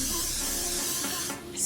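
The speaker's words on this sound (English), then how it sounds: "so I'm just gonna go ahead and use the Got To Be spray" A short, steady hiss of Got To Be hairspray sprayed onto a wig's hair from an aerosol can, one continuous burst that fades out at the end.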